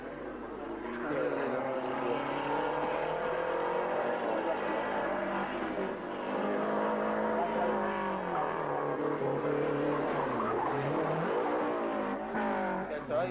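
A rally car at the 1985 Rallye Bajo Aragón accelerates hard, its engine note a sustained, loud roar that rises and falls in pitch over several gear changes, filling the whole stretch without pause.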